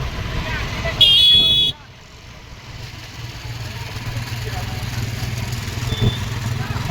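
Dense road traffic heading toward Kotambi stadium in Vadodara, with engines idling and motorbikes rumbling in a steady low drone; a short loud burst of noise cuts in near the start and a voice talks over it.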